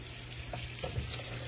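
Tap water runs steadily to fill a cooler for chilling freshly boiled sweet corn, a continuous close hiss with small splashy flickers and no talking.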